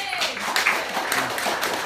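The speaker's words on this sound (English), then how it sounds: "let's have a round of applause and give it up for Richard Kaplan" Audience applause at an evening author event on Long Island, a brief, fairly soft burst of many hands clapping, steady and diffuse, with no speech over it.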